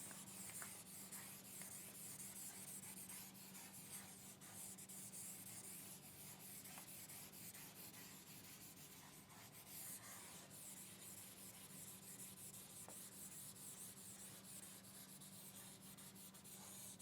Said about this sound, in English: I will erase it.